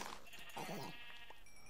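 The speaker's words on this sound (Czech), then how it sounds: "Tohle ovce." A sheep in the Minecraft video game gives a single short bleat, clear and close, against quiet game background.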